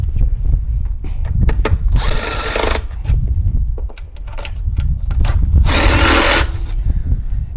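A power drill backs out screws holding down part of a BMW 530e plug-in hybrid high-voltage battery pack, two loud close whirring runs of about a second each separated by clicks and handling noises.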